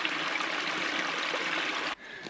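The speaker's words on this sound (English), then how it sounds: "Mini waterfall." A small waterfall on a little spring-fed stream splashes in a steady, full broadband rush close by, then drops abruptly to a softer trickle near the end.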